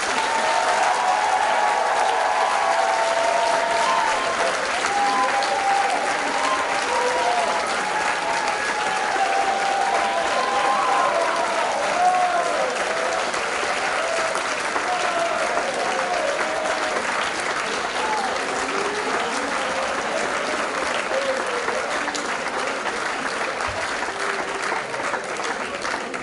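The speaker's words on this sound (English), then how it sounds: "And I think they deserve a huge round of applause." Sustained audience applause filling a school assembly hall during a wacky-week event, a steady dense wash of clapping from a large crowd that holds at an even level for the whole stretch, with faint voices mixed in.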